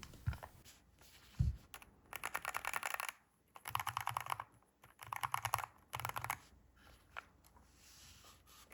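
Rapid clacky keystrokes on a Chilkey ND65 Hall effect mechanical keyboard in several bursts separated by short pauses, close and fairly quiet, no voices.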